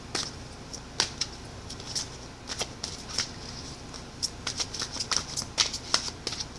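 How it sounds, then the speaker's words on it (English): Heart-shaped cards are shuffled by hand in a quiet room, a series of quick, crisp riffling flicks and taps coming in irregular bursts up close. "Very, very hard to shuffle."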